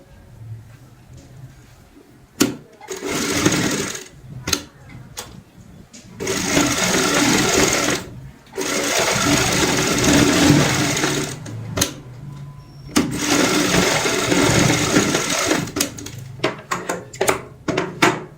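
A sewing machine stitches pieces of old cloth together into a doormat, running in loud, close bursts of rapid mechanical whirring that are broken by short pauses and clicks.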